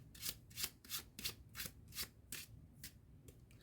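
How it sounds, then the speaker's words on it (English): Playing cards shuffled by hand during a magic trick, a steady series of about ten crisp riffling bursts, close and fairly quiet with no talking. "we start to shuffle the cards as many as you want or the spectator want"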